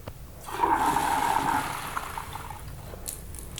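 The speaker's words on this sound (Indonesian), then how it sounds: "jadi kita bilas sampai benar-benar airnya itu nggak berwarna lagi ya" Water pours and splashes steadily for about two seconds as microgreen seeds are rinsed, a close, rushing liquid sound that then tapers into quieter trickling.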